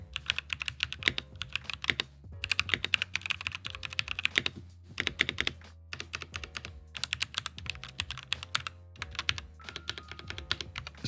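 Steady bursts of typing on a FREEWOLF K8 mechanical keyboard with custom switches, quick clicky keystrokes arriving in close runs separated by short pauses, near and clear with nothing else heard.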